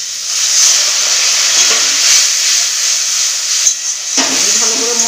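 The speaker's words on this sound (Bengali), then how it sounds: "ভালো করে মশলাটা কষিয়ে নেব" Masala with chopped tomato and a little water fries in a pan for a soybean dish, hissing loudly and steadily. A sharp bubbling surge comes near the end, with faint stirring scrapes underneath.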